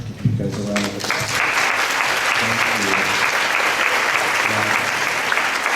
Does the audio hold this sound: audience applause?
yes